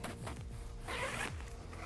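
A dry bag's zippers are pulled along to join Batwings zippers, giving a close, crisp ratcheting zip that runs in quick bursts for about two seconds.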